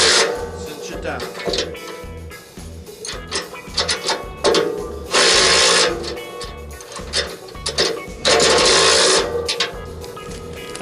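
Metal clicks and ratcheting taps from a 5/8 inch box wrench tightening screws while working on an overheating snow plow truck, coming in repeated short bursts with louder stretches of rasping, close by with a voice talking at times.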